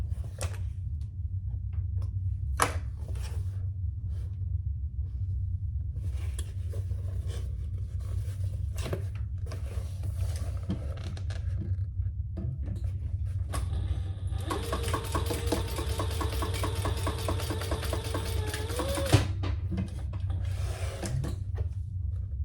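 A sewing machine stitches a second seam on a leather handbag, running in a steady whirring burst of about five seconds midway through an otherwise quiet room.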